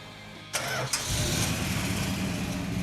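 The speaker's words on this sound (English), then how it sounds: "I'm gonna fire it up." A 1967 Plymouth GTX 426 Hemi 4-speed convertible starting up, a brief cranking burst before the engine catches into a loud, steady, rumbling idle, close by.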